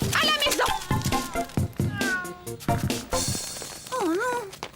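Several cats meow in a lively, overlapping cluster, with repeated high, wavering cries that come up close. A drawn-out yowl follows near the end, and no talk is heard over them.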